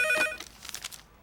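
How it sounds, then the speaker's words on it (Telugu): A telephone rings in a Telugu film comedy scene: one short burst of bright, warbling electronic ringing, fairly close and heard alone before fading out. "అంజలి, నీకు ఫోన్ అమ్మా"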